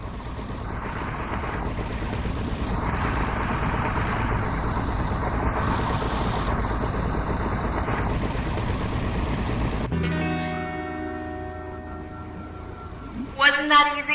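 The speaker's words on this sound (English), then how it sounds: "The engine is engaged and we are starting our ascent." In the VR game I Expect You To Die, a vehicle engine runs as a steady low rumbling hum for about ten seconds, then cuts to quieter electronic tones and a brief louder burst at the end.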